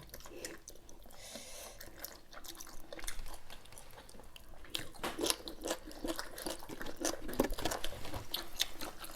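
Someone chews spicy Thai giant octopus salad, made by pounding the octopus, with fresh vegetables. Moist, crunchy bites repeat close to the microphone throughout and grow louder in the second half. No one speaks.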